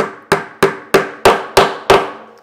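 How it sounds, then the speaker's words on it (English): Six sharp, evenly spaced hammer blows drive a nail into a wooden lap desk, each strike loud and close with a quick ringing decay, no voices. "then I'm going to hammer off my second nail"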